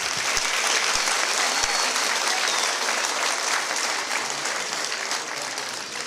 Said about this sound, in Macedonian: Да ги поздравиме учениците со еден аплауз.